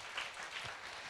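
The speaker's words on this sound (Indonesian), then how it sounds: "Tepuk tangan buat Tuhan." A church congregation applauds during a Sunday service: a short, faint wash of clapping that sounds distant in the hall.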